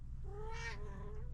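A pet Siamese cat lets out a single drawn-out, wavering meow close by, set against a quiet indoor room with a low steady hum underneath.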